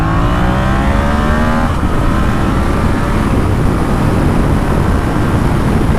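A 2019 Yamaha XSR700 motorcycle accelerating hard in second gear from about 30 mph, the engine note rising steadily in pitch before a brief dip, loud and continuous under heavy wind noise at close range.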